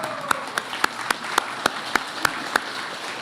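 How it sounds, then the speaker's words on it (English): A single person claps slowly and evenly, about ten sharp hand claps at a steady rhythm, close and clear over quiet room tone, at a graduation ceremony. "Give a warm round of applause to your parents that are here tonight."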